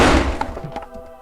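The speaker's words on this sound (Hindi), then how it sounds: "बस कुछ ही देर में उसने वो दरवाज़ा भी धड़ाम कर तोड़ दिया" A door being smashed down in a horror story, rendered as a loud close crash with splintering, glassy debris that quickly dies away into a short ringing tail.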